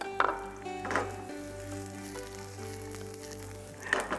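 Onions fry softly in a pan, a low steady sizzle with a few brief louder bursts of crackle at the start and end.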